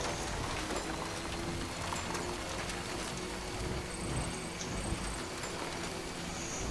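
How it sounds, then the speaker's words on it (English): Rain falls in the Death Stranding video game as a quiet, steady hiss of dense drops pattering on surfaces, continuous and unbroken with no talking. "kind of odd that it's raining over here."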